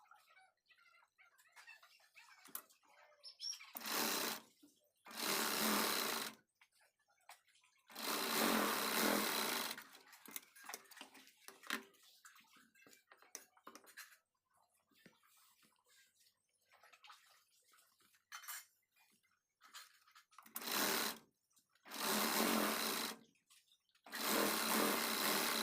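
A sewing machine stitches the sleeves of a Paithani saree blouse in several short bursts of loud whirring, separated by quiet gaps with faint handling noises, close by and without speech.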